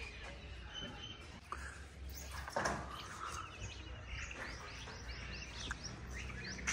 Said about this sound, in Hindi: अभी देखिए कितनी चिड़ियाँ आती है